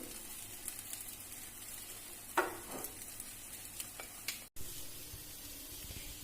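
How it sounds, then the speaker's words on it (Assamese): A soft, steady sizzle of chole tikki shallow-frying in oil, fairly quiet, with a few light scrapes and clicks from stirring. "এইদৰে ৰঙচুৱা হলিকে ভাজি ল'ম"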